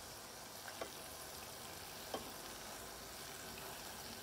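Oil sizzles and crackles softly as battered onion rings fry, a steady faint hiss broken by a couple of small pops.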